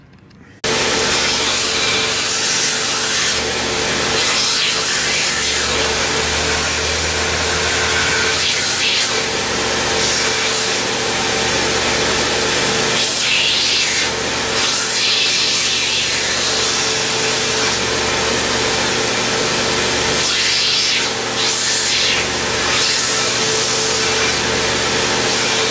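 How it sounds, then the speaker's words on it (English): A grinder shapes the front of a chef's knife handle, a loud, steady abrasive roar with a grinding whine that runs almost unbroken, with slight swells as the handle is pressed and moved against it. "So just put it on the grinder and get to it."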